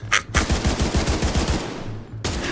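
Turret fire in the shooter game The Division 2 rips out as a rapid burst of roughly a dozen evenly spaced shots, loud and close, framed by short blasts before and after.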